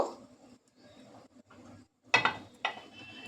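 A kadai (wok) holding mustard oil is shifted on a low-flame stove while fish paturi with mourala fish and lau leaves is cooked, giving two sharp metallic clanks after a stretch of quieter scraping and shuffling.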